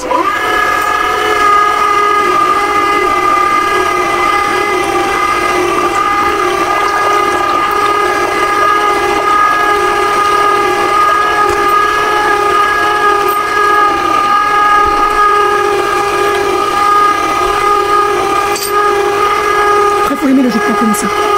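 An electric juicer runs steadily while grapefruit, lemon, orange and celery are juiced on its number 3 setting for fine pulp, a continuous motor whine with strong steady tones, close and loud, with a brief rustle near the end.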